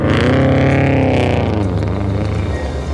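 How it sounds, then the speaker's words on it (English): A loud car engine roars and revs as the vehicle drives, a sustained throaty motor sound that holds strong and eases slightly toward the end, with no voices. "How's it feel to be driving a real car, Clutch?"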